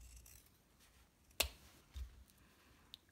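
Scissors cutting craft material for a Foxwood wreath, one crisp close snip followed by a couple of fainter rustles and a small click, quiet and without speech.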